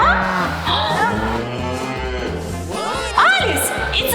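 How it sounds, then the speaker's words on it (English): A cow moos in a children's animal-learning cartoon, a few low drawn-out calls mixed with music and chirpy sound effects, loud and close. "It's a cow!"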